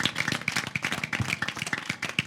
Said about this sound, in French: Applaudissez pour Toubakoro s'il vous plaît.